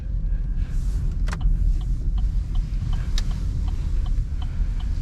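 A car idles and creeps slowly during stall parking maneuvers, a steady low engine rumble with faint ticking and a few sharp clicks, heard close and continuous with no talking.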